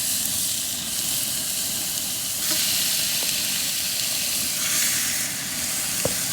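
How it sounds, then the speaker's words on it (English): Pork browning in a hot, well-oiled pot for jambalaya, a loud continuous sizzle and hiss with occasional sharp pops and light scraping, steady throughout. "I'm gonna go ahead and get this pork into the bottom there and brown it up"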